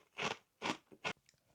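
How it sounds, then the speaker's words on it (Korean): Three loud, close crunchy bites into Gorae-bap, a crisp fish-shaped Korean snack, followed by quieter chewing crackles. "먹어요. 바삭바삭해요."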